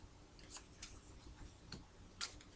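Tarot cards are shuffled by hand in a quiet room, giving a few soft, brief snapping flicks at irregular intervals.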